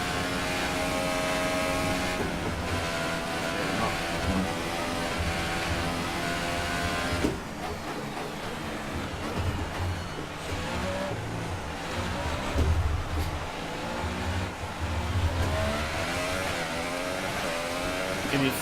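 F1 racing car engine from the F1 2018 game on the Belgian Grand Prix circuit, a loud sustained whine with rising and falling harmonic pitch through shifts, continuous throughout with no talk.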